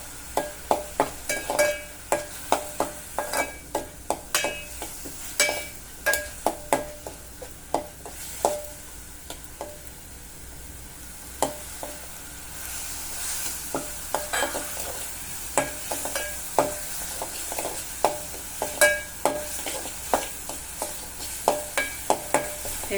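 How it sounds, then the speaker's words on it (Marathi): Ground spice paste sautés in hot oil for Konkani godi dal, a soft continuous sizzle punctuated by frequent sharp scrapes and taps of a spoon stirring against the pan, close and steady throughout with no talking. "तेलामध्ये चांगला वाटण परतून घेऊया."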